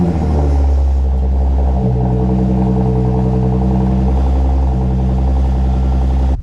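A lowered car with large exhaust tips rumbles loudly and steadily nearby, its engine note shifting as it pulls away, with no talking.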